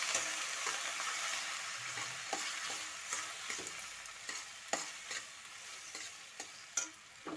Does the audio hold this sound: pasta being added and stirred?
yes